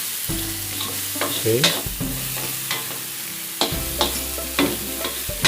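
Onions sauté and sizzle in a pan for a basic pureed sauce, with repeated utensil stirs and scrapes clinking against the metal in an uneven rhythm close up, while a voice speaks briefly.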